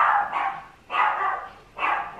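A dog barks three times close by, evenly spaced about a second apart, each a sharp, loud bark fading quickly into a quiet indoor room.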